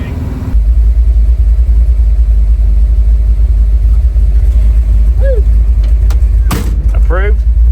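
A twin turbo big block Ford Fairmont driving, with a loud, steady low engine drone filling the cabin throughout, a door-like thud near the end and brief chirping tones over the rumble.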